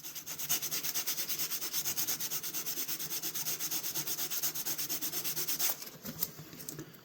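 A knife blade is worked over 1200 grit sandpaper in rapid, steady back-and-forth rasping strokes, close and continuous, stopping near the end.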